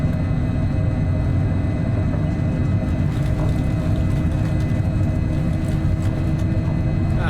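Airliner engines roar steadily through a takeoff roll in Microsoft Flight Simulator 2024, a dense, unbroken low rumble that holds loud and even from start to finish.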